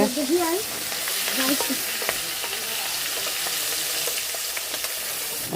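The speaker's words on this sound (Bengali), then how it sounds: "এই যে মাছ দিচ্ছে এদিকে মাছ ভাজা হচ্ছে" Rui fish frying in hot oil in a home kitchen, a steady close sizzle and crackle running throughout, with a few brief voice sounds near the start.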